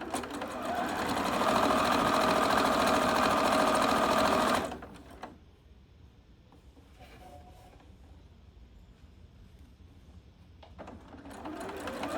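A sewing machine stitching a ruffled pillow cover runs in a loud, steady whir for about five seconds, then stops. Quiet room noise follows before the motor briefly starts up again at the end.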